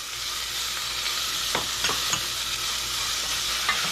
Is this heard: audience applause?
no